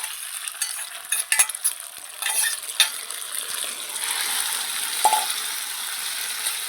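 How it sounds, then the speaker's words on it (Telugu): A spoon stirring a mixture of milk and rice dumplings in a pot after the stove is switched off; close scraping and clinking strokes come in an irregular rhythm over a soft, steady hiss, with no talking. "మెల్లగా ఇలా కలిపేసుకోవాలి"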